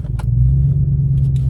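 A truck's engine rumbles deep and steady through its exhaust pipes, a loud close low drone held for a moment with a few faint clicks over it.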